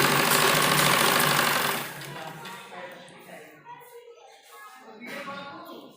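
A sewing machine stitching a child's baby frock, its rapid steady whirr loud and close for about two seconds before stopping, leaving quieter handling sounds and someone speaking.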